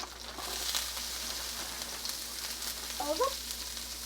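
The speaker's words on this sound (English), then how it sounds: "we're gonna go ahead and add some carrots now" Carrots go into a sizzling pan for a hoisin tofu stir fry, giving a soft, steady frying hiss with faint clinks and a brief high squeak near the end.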